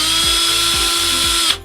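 A power drill whirs steadily, close and loud, boring holes into a cardboard beer advent calendar box, its motor pitch dipping briefly a few times under load before the drill stops.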